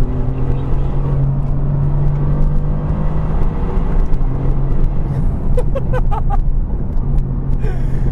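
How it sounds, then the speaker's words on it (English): The bi-turbo V8 of a tuned 2018 Mercedes-AMG GT R drones steadily with a low growl and a sustained tonal hum, loud and close, with brief higher mechanical ticks near the end. "this bi-turbo V8 is immense"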